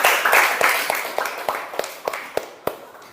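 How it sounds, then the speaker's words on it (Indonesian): Students in a junior high school classroom clapping hands in a steady rhythmic pattern, about ten distinct claps that start as a dense burst and thin out into evenly spaced beats. "Tepuk tangan dulu"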